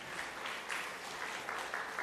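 Steady applause from a church congregation at a Sunday service, welcoming members as they stand, with dense even clapping that swells briefly in repeated pulses.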